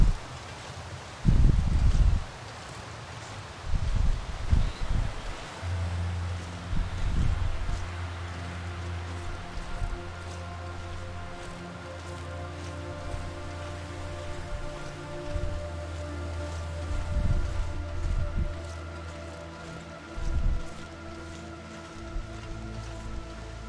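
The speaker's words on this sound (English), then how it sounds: "Now, once again, it's very windy." Wind blowing in the survival video game The Long Dark, a continuous rushing, rustling roar with repeated low gusts and buffets rising and falling across the whole stretch.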